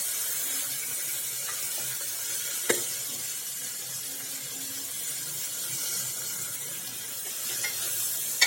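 Whole cumin and coriander-cumin frying for a guar dish, giving a continuous soft sizzle with faint stirring, close and steady, with a single sharp tap partway through and no talk.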